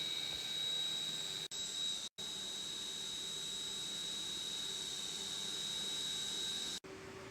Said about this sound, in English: Now testing the spindle speed.